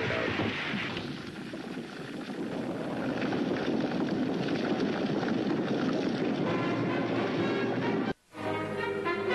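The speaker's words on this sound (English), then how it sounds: "the train, which had been moving along, suddenly stopped." A train's steady low mechanical rumble with clattering rolls on, then cuts off abruptly near the end as it stops, leaving quieter, thinner noise afterward.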